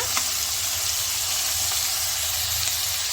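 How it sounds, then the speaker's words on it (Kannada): Chopped ridge gourd sautés with fried onions in a hot pan, giving a steady, bright sizzle that holds evenly throughout with faint stirring clicks and no voices. "ಈ ಟೈಮಲ್ಲಿ ನಾವು ಕಟ್ ಮಾಡಿ ಇಟ್ಕೊಂಡಿರೋ ಪಡವಲಕಾಯಿ ಹಾಕ್ಕೊಂಡು ಎರಡು ನಿಮಿಷ ಹಾಗೆಯೇ ಬಾಡಿಸ್ಕೊಳ್ಳೋಣ"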